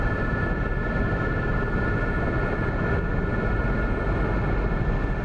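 SA-342 Gazelle helicopter in the DCS flight game taxiing slowly on the ground, its turbine and rotors giving a steady, even roar with a high whine, constant in level from start to finish with no talking.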